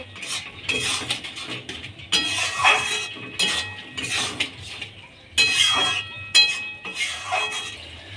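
A metal spoon scrapes and clanks against a pan as ghugni of boiled peas is stirred and fried down. The strokes are close, irregular and clattering, with a faint sizzle underneath.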